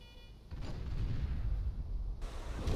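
Naval guns boom in a warship video game featuring the battleship King George V, a deep rumbling salvo that swells and holds for about two seconds, with no voice over it.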